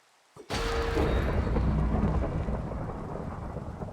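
A Minecraft lightning strike opens with a sharp crack, then heavy thunder rumbles loud and close and slowly fades, with no voices.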